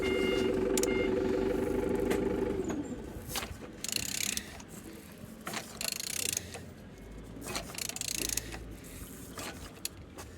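A TU3JP car engine is turned over slowly by hand, giving a close mechanical ratcheting and clicking with irregular knocks and scrapes, alone without talk.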